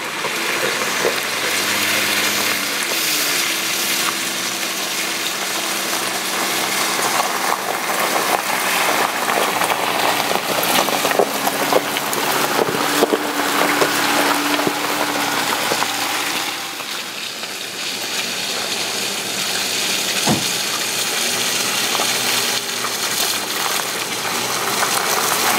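Jeep Gladiator Rubicon creeping down an off-road hill at about 1.2 mph under computer-controlled descent, its engine holding a steady low drone with a continuous rushing, gravelly wash of terrain noise throughout.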